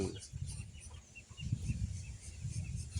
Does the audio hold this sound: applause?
no